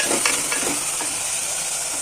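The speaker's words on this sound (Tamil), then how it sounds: "நல்லா வதங்கிட்டு இருக்கு பாருங்கள்." Mutton with ginger and garlic sautéing in a pan for a mutton and brinjal gravy, a close, steady sizzle broken by a few quick stirring scrapes, no voices.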